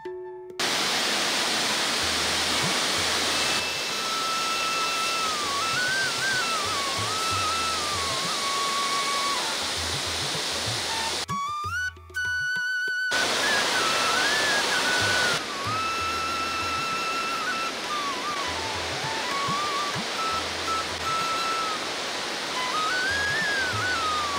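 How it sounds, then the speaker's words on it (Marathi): The Dhutpapeshwar waterfall near a temple in Rajapur, Konkan, roars as a constant, dense rush of falling water, loud and unbroken apart from a brief dip, with a faint thin melody drifting above. "नदी डोंगरावरून खाली येताना मंदिराजवळच एक धबधबा तयार झालाय"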